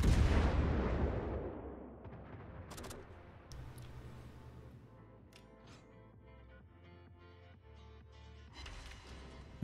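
Naval gunfire from a Tier IX American cruiser, the USS Buffalo, in World of Warships ranked play: an opening heavy boom rolls off, then scattered distant shots and impacts sound over a low engine drone.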